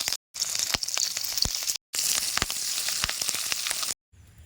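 Eggs fry on a banana leaf in a rural kitchen, giving off a close, bright crackling sizzle with popping spits. The sound cuts off in two short gaps, and there is no talking.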